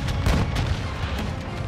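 Tank cannon fire in the video game Modern Warfare 2, a rapid series of heavy booming blasts and rumbling explosions, loud and close with no speech.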